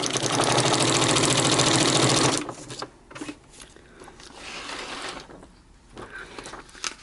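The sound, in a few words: sewing machine stitching through paper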